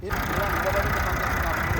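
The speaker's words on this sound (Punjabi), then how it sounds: "ਲੋ ਜੀ ਬਾਈ ਆ ਕਰਤਾ ਆਪਾਂ ਟਰੈਕਟਰ ਸਟਾਰਟ" A Massey Ferguson 35 tractor engine runs steadily after starting, a continuous low mechanical idle with broadband noise held at even loudness throughout.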